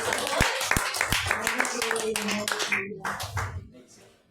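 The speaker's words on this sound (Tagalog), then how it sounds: "Isang malakas na palakpak sa ating Diyos." A church congregation gives a loud round of clapping after a sermon, sharp individual claps standing out at first, then thickening into general applause that tapers off while voices carry on beneath it.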